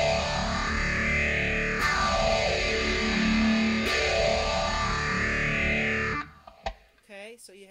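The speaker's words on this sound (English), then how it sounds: "I'm going to use the MXR Phase 90 instead" Electric guitar runs through an MXR Phase 90 phaser pedal, the tone sweeping up and down in slow repeating whooshes over sustained chords, loud and close, before cutting off into a brief bit of talk.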